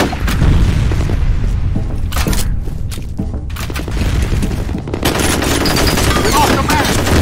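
Grenade blast and rapid gunfire in a FEAR multiplayer match on the Combat Facility map, loud heavy booms over dense continuous shooting, with a brief quieter gap before the firing surges again.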